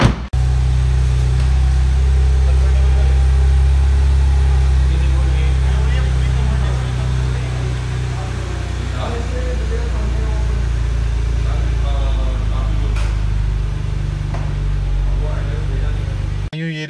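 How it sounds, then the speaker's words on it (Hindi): A BMW convertible's engine idles with its exhaust running, a loud, close, steady low rumble that dips slightly partway through and holds to the end. "इसे स्टार्ट करके आपको एग्जॉस्ट की आवाज़ सुनाई जाए"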